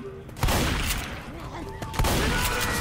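Shotgun blasts from the Left 4 Dead 2 video game, two sharp loud bursts about a second and a half apart over a busy backdrop of game noise and scattered voices.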